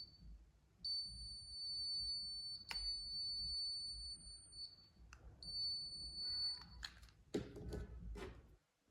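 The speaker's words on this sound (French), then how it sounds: "Quand un objet magnétique puissant est détecté, l'alarme se déclenche" A K68+ detector in magnetic field mode sounds a high, steady electronic alarm tone twice, each lasting a few seconds and broken by short gaps, followed by handling clicks and knocks up close.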